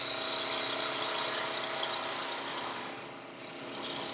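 A wood lathe cuts a tenon on the bottom of an end grain lidded box, giving a steady close whirring hiss with a faint tonal hum that dips and eases near the end; no speech.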